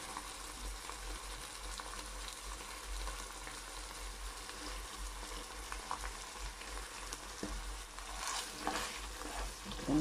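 A liver pâté mixture with mustard and anchovy sauce is stirred in a pan over heat, giving a quiet, even sizzle and soft scraping with a low rumble underneath, no one speaking.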